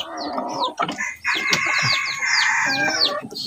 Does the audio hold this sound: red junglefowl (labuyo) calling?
yes